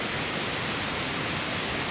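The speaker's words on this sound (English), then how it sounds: "Yeah, they're coming down from both sides of the cliffs into the valley." Jungle waterfalls pouring down cliffs into a valley in Bolivia, a steady, loud broadband rush with no breaks, unaccompanied by voices.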